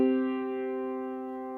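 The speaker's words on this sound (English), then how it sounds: "Harmonic fifth would sound like this." Harmonic fifth, two notes held together in a smooth, pure electronic tone, starting slightly louder and sustaining evenly at low volume for under two seconds.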